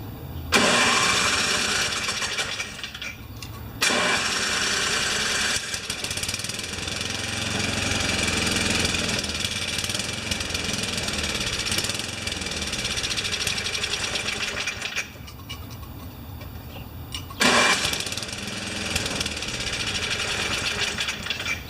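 A Craftsman snowblower engine runs on full choke with a loud, rough, sputtering chug that holds for long stretches, cutting out abruptly twice before it picks back up, heard up close with no voices.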